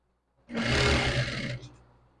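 An upholstery sewing machine runs a burst of about a second, stitching a backrest onto a cushion with a one-centimeter seam allowance; the loud, dense mechanical whir starts abruptly and fades out alone.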